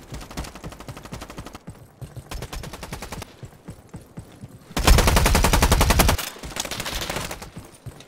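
Gunfire from a Roblox shooter game: rapid automatic bursts in several separate volleys, with the loudest, densest burst near the end and shorter bursts before and after.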